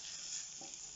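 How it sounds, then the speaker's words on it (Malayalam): Turmeric and chili powder sautéing in a pan, a brief steady sizzling hiss heard up close and alone. "രണ്ടിൻ്റെയും പച്ചമണം ഒന്ന് മാറുന്നിടം വരെ നന്നായിട്ടൊന്ന് വഴറ്റിയെടുക്കുക"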